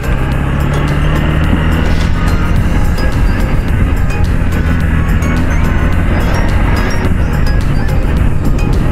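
A Honda Hornet 2.0 motorcycle is ridden on the road from Raipur to Kodar Dam. A steady engine drone blends with heavy, constant wind rush, loud and close throughout the ride.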